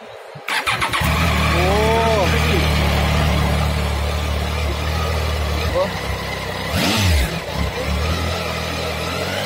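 A Triumph Tiger XCx adventure motorcycle engine cranks and starts, then idles with a deep throb and is revved hard a couple of times, loud and close, at an auto expo in a mall.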